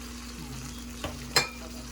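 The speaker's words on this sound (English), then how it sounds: "he's going to sear the beef on both sides" Beef sears in a hot pan for Japanese-style curry, a steady low sizzle with a brief scrape of turning or stirring and a short sharper hiss near the end, close and fairly quiet.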